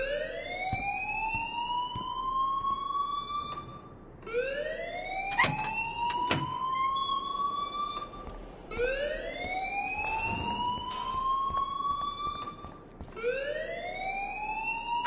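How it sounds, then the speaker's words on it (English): Alarm blaring in Life is Strange video game, a loud rising electronic whoop repeating about every three seconds, with a few clicks and knocks underneath. "please turn off that alarm since that's your job"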